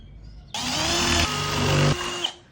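A power drill bores holes in a wooden door to fit a digital door lock, whirring loudly and steadily for about one and a half seconds before cutting off.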